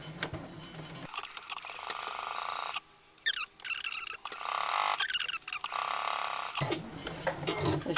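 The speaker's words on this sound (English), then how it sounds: "Give it a turn back under the foot, and then carry on sewing." A sewing machine stitches a fabric cutlery pouch in bursts of rapid mechanical whirring, with brief pauses and clicks between runs, close and fairly loud.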